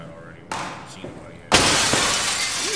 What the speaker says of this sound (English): All right, break the glass.